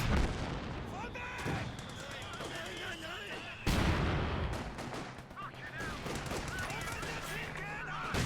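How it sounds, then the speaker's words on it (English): Battle from the real-time strategy Company of Heroes 2, with mortar fire among repeated booming shots and crackling small-arms gunfire, a loud impact near the middle, and a commentator talking over the fighting. "Oh, this mortar paying off so fast."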